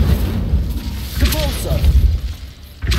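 Incendio fire spell cast in the Hogwarts Legacy video game, a loud continuous burst of fiery whoosh and rumble with dull crashing thumps, a faint voiced cry midway, ending in a brief fresh flare.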